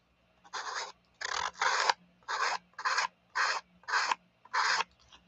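Paper edge being sanded with a small sandpaper disc mounted on an inker while making postcards from scraps: eight close, even rasping strokes, each about half a second, separated by short pauses, with no talk.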